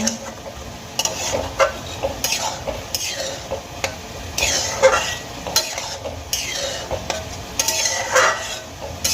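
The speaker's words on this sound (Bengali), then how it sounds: "এবার খুব ভালো করে মিশিয়ে নেব" Whole green peas are stirred into a spiced masala in a pan, with a spoon scraping and clinking repeatedly against the metal over a soft, steady sizzle and no talking.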